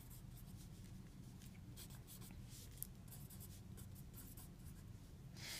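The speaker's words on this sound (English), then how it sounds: "We write our equation." Quiet, close scratching of a pen writing out a chemistry equation, short strokes and taps over a low steady hum.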